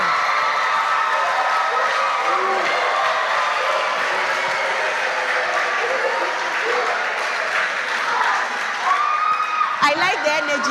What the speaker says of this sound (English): KNUST Basic JHS, -1 point. Please clap for them.